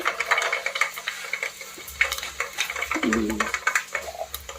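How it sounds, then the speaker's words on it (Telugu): Fenugreek seeds dropped into hot oil in a pan for tomato pickle, a steady close sizzle and crackle with light stirring and utensil clinks, while a voice talks throughout. "నూనె కాగిన తర్వాత మీకు సరిపడాన్ని మెంతులు వేసుకోవాలి"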